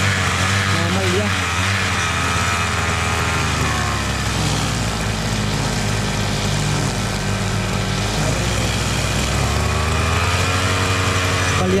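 A small cutter engine with an old spark plug runs rough and uneven, a loud continuous buzzing drone that wavers in pitch throughout, with voices talking over it.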